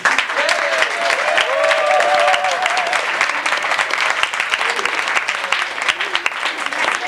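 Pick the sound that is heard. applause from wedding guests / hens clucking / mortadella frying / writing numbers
applause from wedding guests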